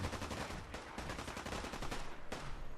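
Minigun fire in Fallout 4, a dense unbroken stream of rapid shots rattling close and loud for a few seconds, with brief dips in the barrage and no talk.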